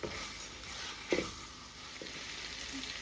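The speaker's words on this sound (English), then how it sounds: "And you're going to let this fry." Chicken sizzles and crackles as it fries in hot oil in a pot for Guyanese chicken curry, a steady hiss with a few sharper pops and stirring sounds.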